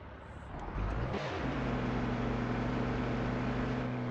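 A truck engine in Grand Truck Simulator 2, a strained vehicle giving warnings, swells up within the first second and then holds a steady, loud droning hum with a low tonal whine, alone without talk.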